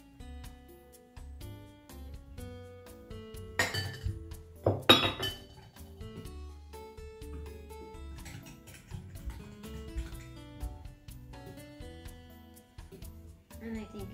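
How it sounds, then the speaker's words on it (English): Olive oil being mixed into banana bread batter in a bowl: scattered clinks and scraping of a utensil against the bowl, with a brief burst of louder clattering partway through, and a voice speaking now and then. "let's mix our half cup of olive oil."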